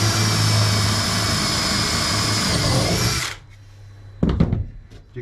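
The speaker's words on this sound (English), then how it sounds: "Same thing, drill and jigsaw." Close, loud power drill or jigsaw running steadily for about three seconds, then cutting off, followed by a few short knocks and clatters.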